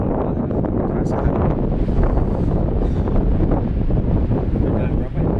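Strong mountain wind on Mount Merbabu along the Suwanting route buffets the microphone in a loud, continuous, rumbling roar, with a voice faintly present beneath it.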